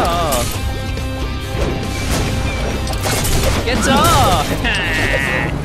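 Explosions in Zombie School (Zombie High) video game, several crashing blasts amid chaotic game effects and bleating squeals, with a person talking over the action.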